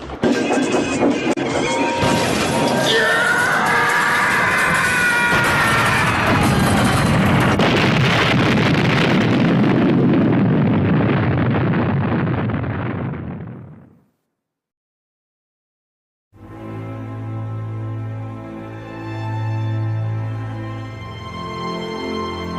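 Train crash sound effect: a loud, sustained roaring smash of a train breaking through a blockade and falling into a ravine, fading out into silence and followed by a low tonal drone.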